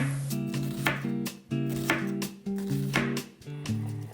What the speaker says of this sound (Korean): 양파 반개를 얇게 채 썰어주세요.